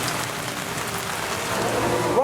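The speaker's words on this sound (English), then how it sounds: "It's still raining pretty damn hard." Heavy rain pours down steadily at a Thorpe Park and Chessington theme park in summer, a dense, continuous hiss close by at an even loudness throughout.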